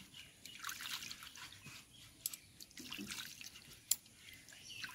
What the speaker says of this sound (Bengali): 2 থেকে 3 বার আম ধুয়ে নিয়েছি আমি জল দিয়ে ভালো করে